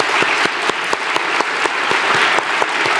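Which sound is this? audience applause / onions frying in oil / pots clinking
audience applause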